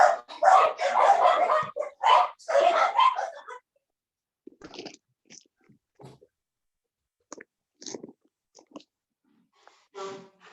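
People talk at first, then after a pause several scattered dog barks and yips sound in the distance, sporadic and fairly faint.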